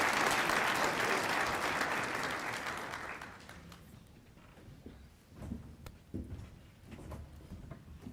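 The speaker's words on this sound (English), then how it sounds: "Let's give them a round of applause." Audience applause at a girls and women in sports luncheon, a loud sustained burst of clapping for about three seconds that fades away, leaving a quiet room with scattered clatter.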